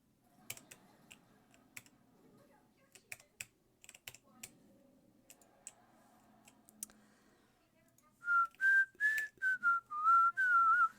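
A person whistles a pop song tune in a bright, wavering melody of several short phrases, loud and close, following a stretch of soft computer keyboard typing and clicks while a World of Warcraft Torghast run plays.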